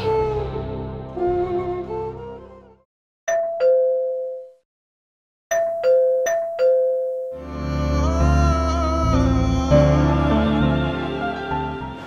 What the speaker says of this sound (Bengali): কখন থেকে কলিং বেল বাজতেছে?